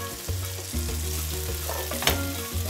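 Spaghetti tossed in a pan with softened tomatoes and garlic, giving a steady close sizzle and frying hiss with soft stirring scrapes and a brief louder clatter near the end, no voices.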